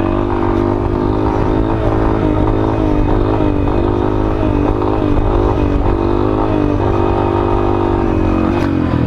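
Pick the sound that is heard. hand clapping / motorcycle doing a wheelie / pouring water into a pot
motorcycle doing a wheelie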